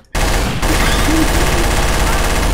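Dense, loud gunfire from a video game starts abruptly and continues as continuous rapid shots in a sustained barrage.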